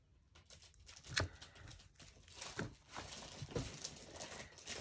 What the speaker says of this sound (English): That crinkling noise you hear is my kitty climbing on bags, like plastic packaging.